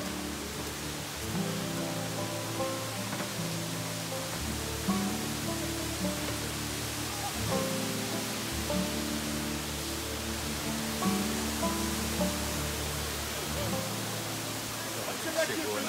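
Waterfall at a swimming spot in Bonito, a continuous broad rushing roar of falling water, with people talking over it.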